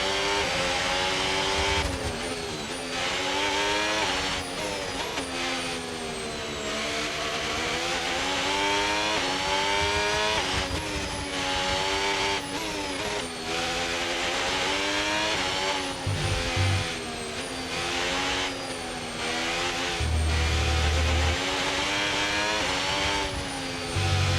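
A Formula 1 race car engine in the F1 25 racing game screams continuously at high revs, loud and sustained with rising and falling pitch through gear changes, with no talking over it.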